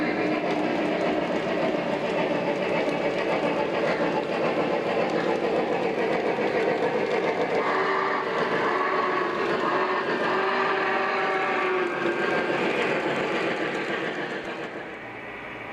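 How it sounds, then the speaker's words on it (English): A Legacy model train locomotive running over an LCS sensor track near a grade crossing, giving a steady whirring motor hum with faint clicking of wheels on rail, continuous and close, tapering slightly at the end. "Let's bring our first locomotive around and see what happens."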